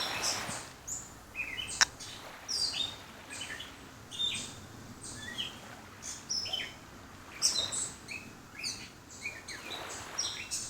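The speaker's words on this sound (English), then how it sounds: "Enjoy those tweeting birds." Birds chirping and tweeting in short, scattered bursts throughout, high and fairly clear against a quiet outdoor background.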